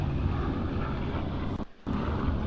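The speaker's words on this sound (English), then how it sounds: "the Qantas Link Dash 8." Qantas Link Dash 8 turboprop airliner arriving at Sydney Airport, a steady broadband roar of engine and airflow that stays loud throughout, with a short dip near the end.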